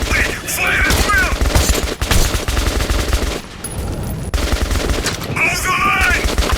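Gunfire in the video game Metro 2033 Redux: loud, close, rapid bursts of automatic fire that run nearly nonstop, with one short lull midway before the shooting resumes.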